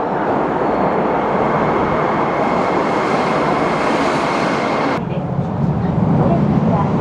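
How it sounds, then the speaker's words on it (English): Loud, steady rumble of a Tokyo subway train rolling into a station, the roar shifting near the end as it slows, with people talking faintly underneath. "Train approaching."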